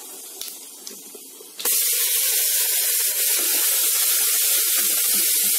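Ground masala paste hits a hot pan for hotel-style veg kurma and erupts into a loud, steady sizzling hiss that continues unbroken after a quieter start.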